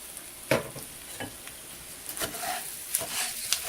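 Rice being browned in a frying pan while stirred, alongside broken spaghetti noodles and pepper, for a cheesy rice dish: a steady sizzle with intermittent scraping stir strokes, close up and fairly soft, with no talking.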